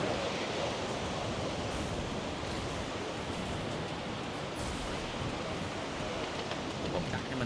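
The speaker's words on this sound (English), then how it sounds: "That water sounds so loud it's like rushing down" Loud, steady rushing water with a dense broadband roar that holds constant throughout, close and uninterrupted.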